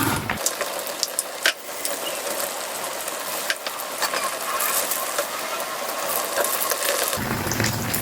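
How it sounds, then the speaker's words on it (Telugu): Uggani bajji and green chillies fry in hot oil over a medium flame with a loud, continuous close crackling sizzle and occasional pops. "ఆ పచ్చిమిర్చి కూడా నూనెలో బాగా వేగుతుంది"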